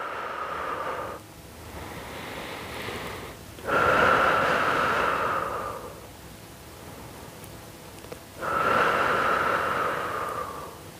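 Deep, steady breaths during a Pilates exercise session, drawn in and pushed out in a slow regular cycle of long airy inhales and exhales, close to the microphone with no talking.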